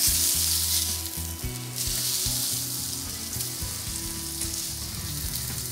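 Meat sears in a hot pan with a steady, loud sizzle of frying fat, continuous and close throughout, with faint stirring or shifting underneath.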